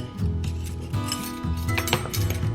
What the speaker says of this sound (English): So now we whisk together the flour and the baking soda